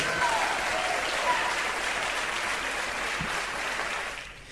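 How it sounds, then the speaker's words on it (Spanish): A church congregation applauding during a Spanish-language sermon, a dense and sustained crowd ovation heard from the room that holds steady for several seconds and then fades away at the end. "¿Quién da un aplauso a la palabra de Dios?"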